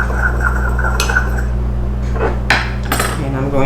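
Utensil scraping and clinking in a dish as salt, pepper and paprika are stirred together for an eye round roast, a few clear metallic knocks over a steady low kitchen hum, no talking.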